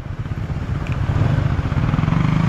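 A motorcycle engine runs close by at a steady throbbing idle, loud and continuous with a rhythmic low pulse and no talk over it.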